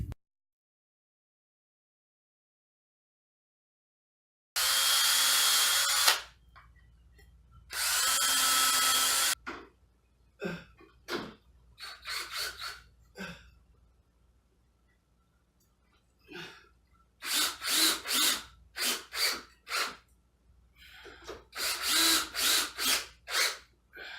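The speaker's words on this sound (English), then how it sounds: "sink some screws." A power drill drives screws into wood while building a DIY chipo game. Two long whirring runs give way to many short, quick trigger bursts, all close and loud.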